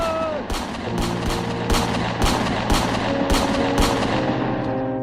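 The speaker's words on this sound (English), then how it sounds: "The unprovoked firing by the British troops went on for 10 minutes until all their ammunition ran out." Rifle fire by British troops at the Jallianwala Bagh massacre: loud, rapid shots in a steady volley rhythm over a continuous low droning tone, sustained throughout with no speech.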